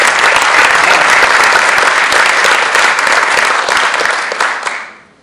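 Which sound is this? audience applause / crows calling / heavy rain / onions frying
audience applause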